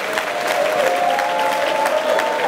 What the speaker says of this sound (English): I want you all to give yourself a round of applause at that name.